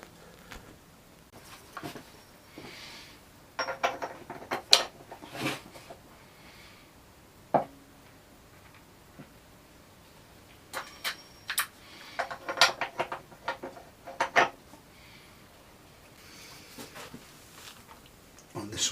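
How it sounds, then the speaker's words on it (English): Sharp metallic clicks and ratcheting bursts from a hand ratchet loosening a nut on the rear wheel of a Triumph Speed Triple motorcycle, coming in several separate close-up clusters with quiet pauses between them. "You also need to slacken off this nut as well"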